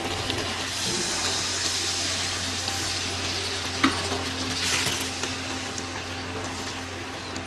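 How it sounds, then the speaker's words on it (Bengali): Water is poured into a pan of fried-down curry for biryani, a steady gushing splash over loud sizzling that runs throughout with a brief clink midway. "আমি লাস্টে আমার জলটা আমি দিয়ে দিচ্ছি"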